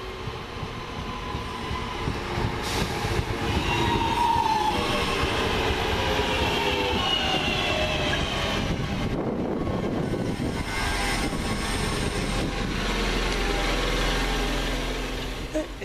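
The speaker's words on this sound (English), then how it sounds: "Here comes my train out of here" A Northern Rail passenger train, the Crewe to Manchester Piccadilly service, pulls into a station with rumbling wheels, screeching brakes and the hum of its engine, loud and close, while a voice talks briefly.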